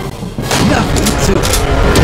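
Gunfire in the Primeval Hunt arcade shooter: a loud, dense barrage with several sharp shot bursts over continuous game noise and booming effects.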